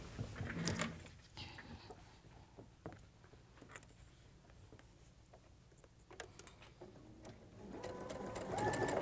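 Domestic sewing machine stitches quilt block pieces in a steady mechanical whir, starting and stopping in short bursts with faint handling clicks between runs, close to the microphone.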